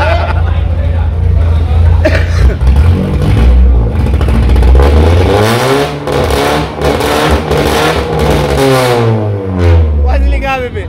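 A Chevrolet Vectra 2.2 engine revs hard close by, its pitch climbing and falling in loud sustained pulls, with people chattering over it.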